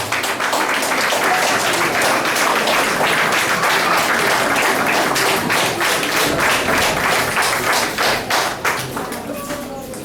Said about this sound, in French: Veuillez vous lever, s'il vous plaît, et vos applaudissements